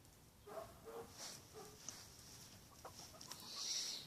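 Backyard chickens give scattered soft clucks and a higher call near the end, faint and somewhat distant against quiet background noise.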